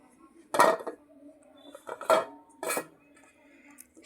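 Salad is served at a meal, with three distinct clinks of cutlery against dishes spaced over a few seconds, close and clear against a quiet background.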